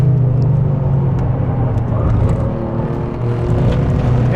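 Alfa Romeo Giulia Quadrifoglio at speed on a race track, a steady loud engine drone with a low rumbling tone held throughout, the note shifting slightly with throttle, no voices.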